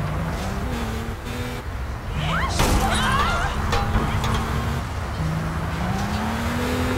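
A fast car driven in the online game APB Reloaded, engine revving up and down through gear changes with a brief tire squeal and crash noises midway, loud and steady throughout over game background sound.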